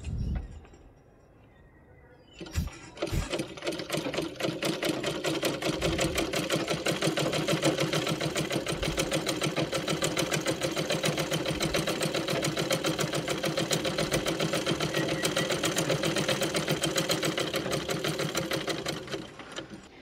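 A sewing machine under repair for skipped stitches, set on its stand, stitching fabric: after a short pause and a few clicks, a loud, close, rapid mechanical clatter runs steadily for about seventeen seconds before easing, with no talk.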